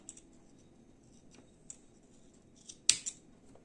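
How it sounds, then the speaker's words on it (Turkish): Scissors snip through a bundle of yarn threads while finishing a crocheted daisy-embroidered shoulder bag, a few quiet scattered clicks ending in one sharp, louder cut near the end and a softer follow-up snip. "bütün iplerimi kesiyorum"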